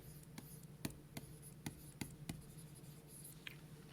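Pen writing on paper during a chemistry stoichiometry lesson, a faint, quiet scratching with several short, sharp strokes and taps spread across a few seconds, no talk.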